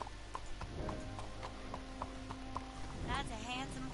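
A horse in Red Dead Redemption 2 walking with a steady, regular clip-clop of hooves, moderately close, while someone talks over it.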